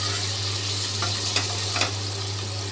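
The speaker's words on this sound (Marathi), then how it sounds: "मस्त कांदा मऊ होईपर्यंत आपल्याला परतायचं आहे" Onion with turmeric fries in a pan for dal khichdi, a constant close sizzle with a low steady hum beneath and a few brief stirring scrapes.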